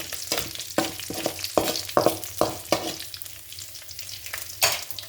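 Onions and curry leaves fry in hot tempering oil for okra curry, a steady sizzle punctuated by a series of sharp spoon-stirring scrapes against the pan, close up and with no talking.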